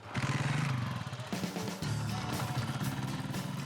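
A motorcycle used for moto-taxi training in a village square runs nearby with a rough, pulsing engine note, dipping and picking up again as the throttle changes, loud and unbroken with no talking.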